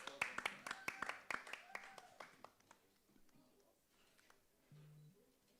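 Scattered clapping from a small seminar audience at a creatives networking event, a quick run of sharp claps close by that fades out within a few seconds, followed by faint room noise.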